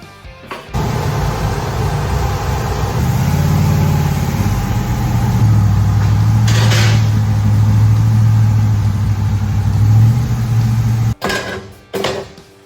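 A Chevelle runs on a test drive with a steady, loud engine drone that rises and holds through several seconds of cruising, then cuts off abruptly near the end with a few clunks.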